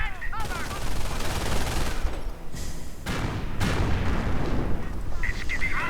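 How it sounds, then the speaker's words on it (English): Panzer IV tank cannon and rifle fire in a video game battle crackle and boom continuously, with sharp reports layered over a dense, noisy battle din. "More Panzer IV fire."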